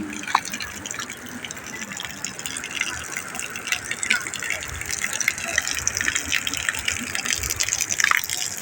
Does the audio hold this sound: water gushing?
yes